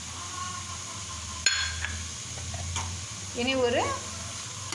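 Grated coconut is stirred into milk and banana in a pan, with a soft sizzle, a sharp utensil knock and scraping strokes. A voice speaks briefly near the end.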